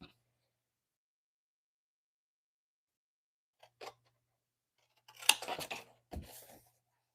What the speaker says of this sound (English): And then I'm going to cut away this tab down here.